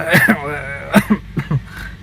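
A few short coughs or throat-clearing bursts in quick succession, close to the microphone, with brief pauses between them.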